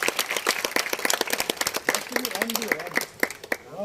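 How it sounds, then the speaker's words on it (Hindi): An audience applauds the directors of a staged Ramayana play, with dense, continuous clapping lasting throughout, loud and close, while a voice speaks briefly over it. "एक बार इनके लिए जोरदार तालियां दोनों डायरेक्टर से।"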